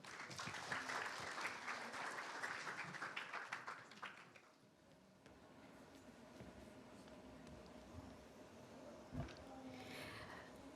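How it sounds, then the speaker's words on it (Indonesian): Audience applause at an event launching a school friendship campaign, greeting a child about to lead a prayer; dense clapping for about four seconds, then fading into quieter room noise with faint murmurs. "Berikan tepuk tangan kepada adik Balkis"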